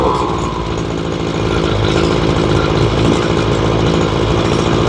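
A Ryobi weed eater's small two-stroke engine running after carburetor adjustment, struggling for fuel at idle: a steady, loud, buzzing drone held close and unbroken throughout, with no talk.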